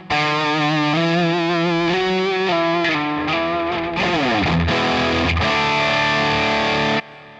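An electric guitar plays a lead line through a DigiTech RP1000 multi-effects unit, with a sustained, distorted tone, delay and reverb, bending notes and shifting pitch before cutting off sharply near the end, heard alone and loud.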